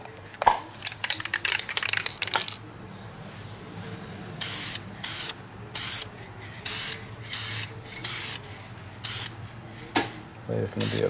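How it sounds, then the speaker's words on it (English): Yellow coating sprayed onto metal in short hissing bursts, irregular at first then a steady series of close spray pulses, with brief clicks and some talking early on. "And we're going to spray the yellow on next."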